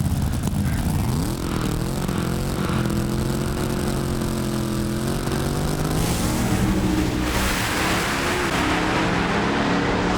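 A supercharged drag racing car at Brainerd, Minnesota, launches with a loud, sustained engine roar that climbs in pitch as it accelerates down the track, staying strong and near throughout.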